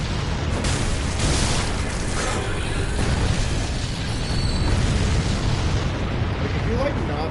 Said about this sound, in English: Shoot the fireballs at me.